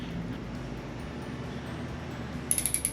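A ratchet clicks in a quick burst of about five sharp ticks near the end, turning the alternator to rotate the crankshaft of a Honda Goldwing during valve adjustment, over a low background hum.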